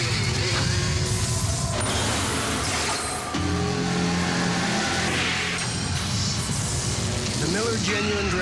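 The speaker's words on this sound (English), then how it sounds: "Genuine Draft Rusty Wallace stock car." Loud, roaring Rusty Wallace stock car engine revving and accelerating through a dense wash of noise, with a brief dip near the middle and voices mixed in.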